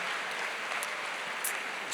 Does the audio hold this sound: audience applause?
yes